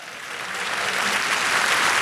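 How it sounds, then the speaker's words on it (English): Applause from a live audience at a talk event swells from moderate to louder, a dense rush of many hands clapping together that grows fuller toward the end. "Go ahead, clap it up."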